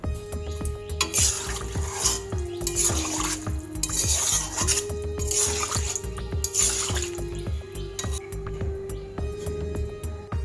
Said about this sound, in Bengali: এবার এর মধ্যে দিয়ে দেব পরিমাণ মতন জল।